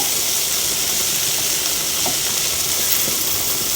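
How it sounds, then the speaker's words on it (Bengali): A salted onion-garlic curry base fries in a pan while being stirred, giving a loud, continuous close sizzle and hiss with faint scrapes and no speech. "লবণ দিয়ে এটা আমি এখন অনেক নেড়ে চেড়ে নিচ্ছি"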